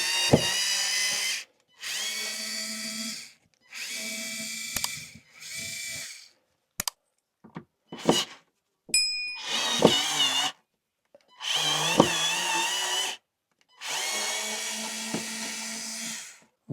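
A cordless screwdriver with a partly drained battery backing screws out of a camper van roof vent, repeated whirring runs of one to two seconds each, close and alone, separated by short pauses and a few clicks.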